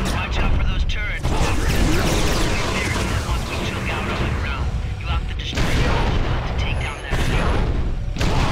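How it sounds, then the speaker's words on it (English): Turret gunfire in the Ben 10 Alien Force video game, a continuous loud barrage of booming blasts and mechanical clatter that fills the whole stretch with only brief dips in intensity. "Watch out for those turrets."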